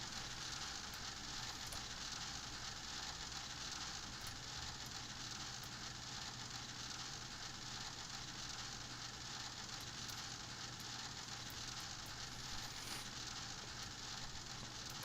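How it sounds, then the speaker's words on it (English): Rain patters steadily inside a flight simulator video game during a climb, a faint, even hiss with light crackling droplets and a low hum underneath, holding constant throughout. "Get out of this rain soon enough."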